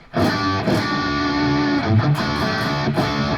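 Distorted electric guitar strums ringing sus4 and sus2 chords, shifting between suspended voicings, steady and loud with a few rhythmic accents.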